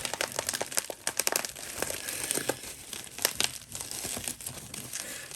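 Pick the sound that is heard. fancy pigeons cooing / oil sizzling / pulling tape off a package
pulling tape off a package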